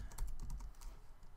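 Quick, light keystrokes on a computer keyboard, about eight soft clicks in a rapid burst, quiet and close, with no voice over them.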